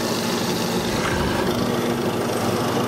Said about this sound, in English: Now I'm going to clean up the areas in between the full mortises that I've cut.